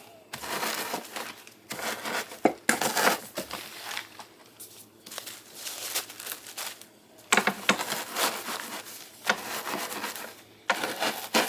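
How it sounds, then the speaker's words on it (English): A rolling pin crushing freeze-dried mac and cheese inside a pouch, with bursts of crinkling, crunching and rubbing that come in uneven waves, close and fairly quiet. "I'm going to crumble that up using my roller pin."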